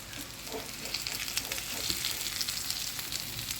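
Stuffed snake gourd fries in a pan with a steady, loud, close sizzle and crackle that runs without a break, and a voice faintly underneath.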